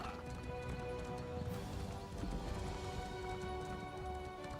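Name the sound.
horse galloping in video game Elder Scrolls Online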